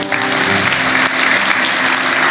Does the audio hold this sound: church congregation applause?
yes